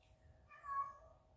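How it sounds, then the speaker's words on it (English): A pet cat gives a single soft, faint meow in the background of a quiet room. "my kitty, you can hear him in the background"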